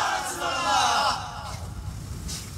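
A large crowd at a Bengali Islamic religious gathering shouts the takbir response together, a loud, sustained collective cry that fades into lower murmuring and crowd noise.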